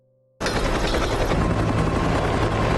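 A helicopter in a rescue scene from the 2024 film Dead Sea starts abruptly after near silence and then runs as a loud, steady, dense rotor roar with no voices over it.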